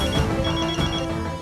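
A telephone rings in a Hindi television drama, a loud, continuous electronic ring with no speech over it.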